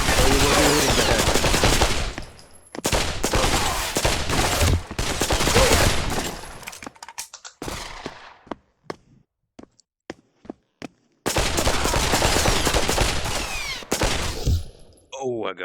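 AK rifle fire in the VR shooter game Pavlov VR: long, loud bursts of automatic gunfire, a stretch of spaced single shots, then another sustained burst, with someone talking at points.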